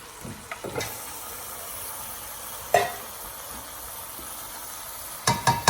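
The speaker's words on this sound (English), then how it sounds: "Now we're going to add all the meat into the pan." Lamb meat sizzles in a frying pan over medium heat, a steady soft hiss with a few louder clatters of stirring and scraping against the pan, and no talking.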